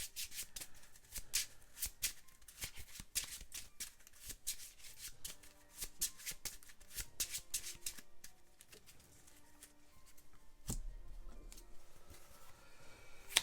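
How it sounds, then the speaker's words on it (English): A deck of playing cards is shuffled at a tabletop game of Legendary Encounters Alien, giving quiet, rapid riffling and snapping bursts that come in clustered runs up close, followed by a softer rustle. "I need to shuffle real quick"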